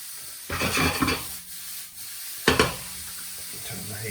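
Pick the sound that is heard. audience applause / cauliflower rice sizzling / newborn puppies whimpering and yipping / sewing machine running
cauliflower rice sizzling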